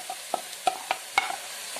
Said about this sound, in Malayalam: പച്ചമുളക് നന്നായിട്ട് വഴറ്റാം